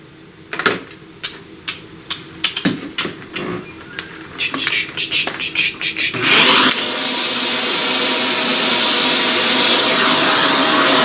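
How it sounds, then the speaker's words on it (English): Several seconds of irregular tapping and scraping come first. Then a vacuum cleaner starts up and runs loud and steady, cleaning up debris from a pastel flower artwork. "let's vacuum all up."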